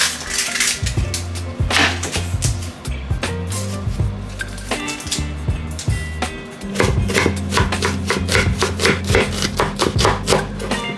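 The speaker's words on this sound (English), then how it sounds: "Alright, so we're back to chopping onions again." Onions are chopped with a knife on a cutting board, a string of close, sharp taps that come in quick bursts and irregular runs, with faint kitchen hum and handling noises between.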